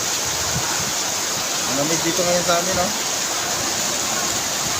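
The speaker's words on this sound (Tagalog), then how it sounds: "Baha naman itong ilog na to." Steady broadband roar of rushing water, like a swollen river in rain, with a person speaking briefly over it.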